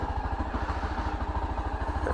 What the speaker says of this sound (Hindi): अपनी बाइक स्टार्ट है बिल्कुल।